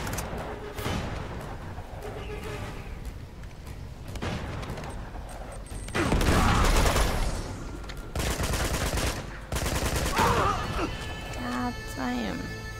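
Gunfire and bursts of shooting in the video game Uncharted 2: Among Thieves, with loud crackling volleys and crashes coming in waves, mixed under a person talking.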